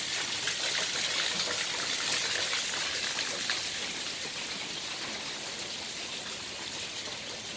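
Steady rain pours down beside Lake San Marcos during a thunderstorm in San Diego, a dense, even hiss with a watery, trickling texture that holds at a constant loud level throughout, with no voices.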